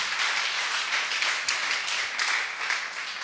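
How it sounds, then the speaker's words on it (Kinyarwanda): A church congregation claps and applauds together, a dense, fairly loud wash of hand claps that pulses slightly and fades a little toward the end. "Dushimira Imana n'amashyi menshi cyane mu izina rya Yesu"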